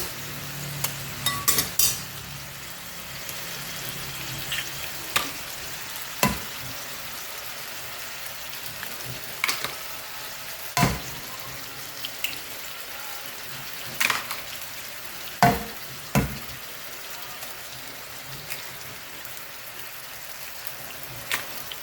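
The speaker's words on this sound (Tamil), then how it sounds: "முட்டை நாலு முட்டை உடச்சி ஊற்றிக்கலாம்" Beaten eggs frying in a hot pan with chopped green chilli, a steady soft sizzle running throughout, broken by a few sharp pops and clicks of spatter.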